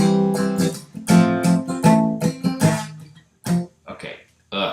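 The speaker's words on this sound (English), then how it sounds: "we want the guitar to play this nice little descending phrase" Electric or acoustic guitar plays a short melodic phrase with plucked notes stepping downward, rhythmic attacks over about three seconds, then a brief pause and a few final notes, played alone and up close.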